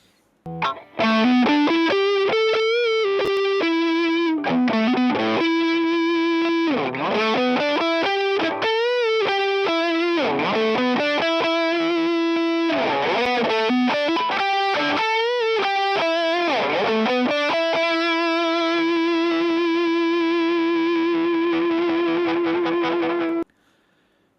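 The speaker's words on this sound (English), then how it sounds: "a regular low gain Marshall tone between neck, middle, and bridge" PRS Tremonti electric guitar through a mildly overdriven low-gain Marshall amp plays a run of bright chords and picked notes across neck, middle and bridge pickups, some ringing out, with a little crunch, no voices.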